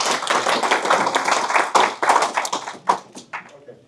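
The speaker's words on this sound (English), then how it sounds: "let's give them a big round of applause." Members at a club meeting applaud in a small room, close, dense clapping that thins into scattered individual claps and fades out within a few seconds.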